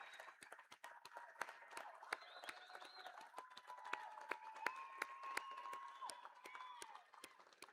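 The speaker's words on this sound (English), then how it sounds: "please give our graduates another round of well-deserved applause" Sparse, scattered clapping from a commencement audience applauding graduates at a university ceremony, heard faintly under a sustained musical tone, with individual hand claps standing out irregularly.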